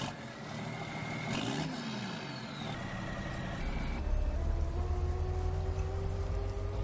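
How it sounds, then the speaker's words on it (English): A tractor engine in Farming Simulator 19 on the Saxony map runs steadily with tonal, musical harmonics, rising and settling into a louder, heavier drone partway through, with no talk. "every time I start one of these tractors, the engine sounds so musical"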